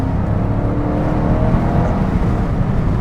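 A Cadillac CT5-V Blackwing's engine revs hard on a downshift, a loud, steady rumbling roar with a rising whir throughout, close and unbroken, with no talking over it.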